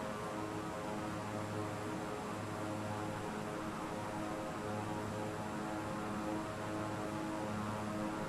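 A propeller plane comes in to land with its landing gear down in a flight video game, a steady droning engine hum with a faint pulsing throb throughout.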